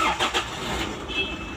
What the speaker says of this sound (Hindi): ऐसा कुछ आता है इंजन नॉइज़, काफ़ी ज़्यादा ना मतलब भारी इंजन है गाड़ी का